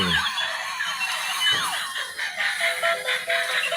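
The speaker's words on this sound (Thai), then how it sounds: "โอ้ มีเสียงหวอเลยนะครับ" A battery-powered toy police motorcycle plays its electronic siren: loud, close, warbling tones that sweep up and down and repeat without a break.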